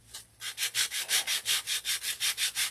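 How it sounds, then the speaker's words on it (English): Sandpaper rubbed by hand across a wooden witch-shaped insert for an interchangeable window, about a dozen quick, even back-and-forth strokes, close and crisp with no talking. "Let me sand that one just a little bit on the back here"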